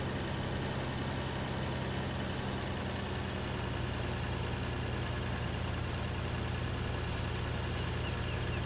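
A tractor engine idles in the Farming Simulator 19 video game, a steady, even low hum that holds unchanged throughout with no talking over it.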